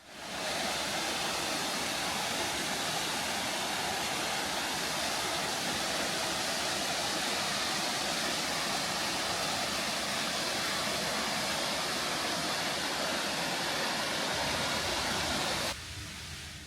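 Small waterfall trickling through a basalt canyon after a dry spell, a steady, even rush of falling water that holds constant throughout before cutting off abruptly at the end.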